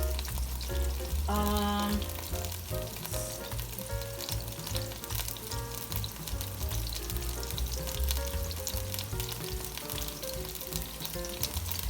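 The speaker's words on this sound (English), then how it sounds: "you need to allow this to cook just for a second so that these frozen peas can de-thaw a little" Frozen peas sizzle in a pan for keto cauliflower fried rice, a steady crackling fry running continuously under background music.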